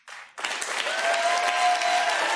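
Studio audience applause swells after a brief opening burst and holds steady and loud as a dense wash of clapping, with a faint sustained tone running beneath it.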